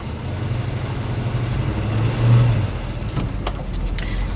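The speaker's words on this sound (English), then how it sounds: "we're going to go ahead and take our 70 Mustang Mach 1 for a ride now" A 1970 Ford Mustang Mach 1 engine rumbles steadily at close range, swelling briefly as it revs, then settling back to a low, even drone.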